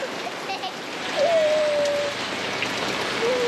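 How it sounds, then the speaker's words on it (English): Steady heavy rainfall hisses across the whole stretch, a dense wash of water sound with a faint tonal whine drifting through, at a campsite by the Roper River. "We ended up getting about 40 mil of rain in a couple of hours"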